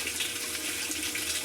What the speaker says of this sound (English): water's flowing, so that's good.